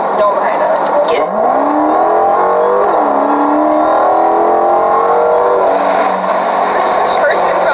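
An 11,000-horsepower nitromethane-fuelled drag car roars loudly throughout, its engine note sweeping upward as it accelerates, with faint voices mixed in.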